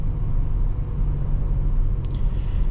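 Steady low engine drone and road rumble from inside a 2025 Audi Q5 with a 2-liter turbo engine and quattro all-wheel drive, heard while driving, continuous and fairly loud with no talking.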